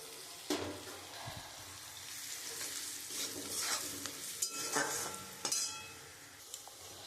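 Turmeric, chilli and cumin powder fry with onions in a pan, a soft continuous sizzle broken by stirring scrapes and a few sharp metallic clinks of a spoon against the pan, close and fairly quiet.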